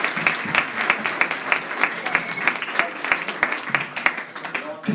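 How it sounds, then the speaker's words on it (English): Audience at a school-hosted education awards ceremony claps in sustained applause, a dense steady patter of many hands, fairly close and loud throughout. "We have a round of applause for Stephen and the team."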